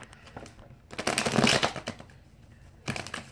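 Paper name slips rustle and scrape as they are shuffled inside a drawing bag for a giveaway, a close crinkly burst building to a louder flurry, pausing, then returning briefly.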